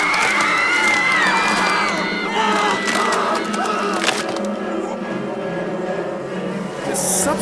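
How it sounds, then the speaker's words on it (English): Crowd whistling and roaring in the horror game Tiny Bunny, a loud dense swell of shouts and whoops with sharp whistles that stays steady throughout and thins slightly toward the end. "the crowd around here became louder. It started whistling and roaring."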